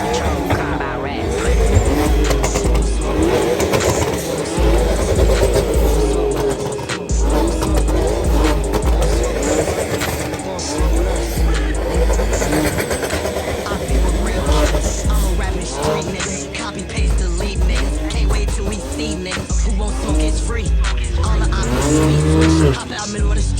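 A JDM car and a BMW rev their engines in a rev battle on a street outside Fuel Fest, loud and close, repeated throttle blips and revving bursts over continuous engine roar, with music playing underneath.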